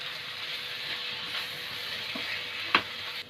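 Pizza paratha filling with Schezwan chutney being stirred in a sizzling pan, a steady frying hiss with soft scraping strokes and one sharp clink of the spoon near the end.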